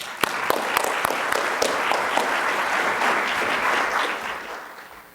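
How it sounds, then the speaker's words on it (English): An audience applauds Fred Caldwell with sharp claps that swell into a full, sustained round lasting several seconds, then fade near the end. "So please give a round of applause for Fred Caldwell."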